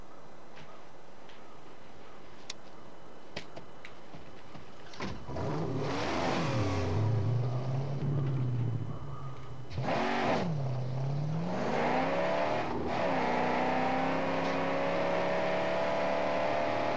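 A car in the Mad Max game starts up and revs hard, its engine roaring and climbing in pitch, dropping back, then surging again while faint ticking plays in the background.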